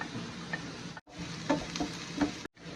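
Onion, garlic and green and red chili peppers sautéing in a pan, a steady close sizzle with intermittent stirring scrapes and clinks of a utensil, briefly cut off twice.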